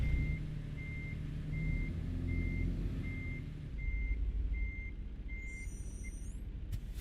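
A truck in a video game drives with a steady low engine rumble while evenly spaced reversing beeps repeat about ten times, the beeping stopping near the end as a brief hiss and a sharp click follow.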